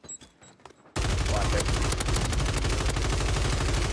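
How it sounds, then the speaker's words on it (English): Precision airstrike in Call of Duty Warzone: after a short quiet spell with faint beeps, a dense barrage of loud, rapid explosions and gunfire bursts hits suddenly and continues without pause. "Friendly precision airstrike inbound."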